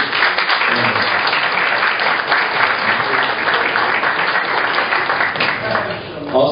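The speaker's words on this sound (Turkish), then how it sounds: "Onu lütfen coşkuyla alkışlayalım." An enthusiastic crowd claps loudly and continuously for a celebrated athlete at a club award ceremony in Üsküdar, a dense, close roar of hands with murmuring voices mixed in.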